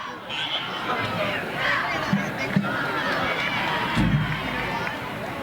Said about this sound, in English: Big crowd on both sides tonight, Mike.